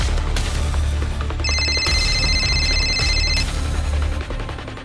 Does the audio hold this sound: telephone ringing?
yes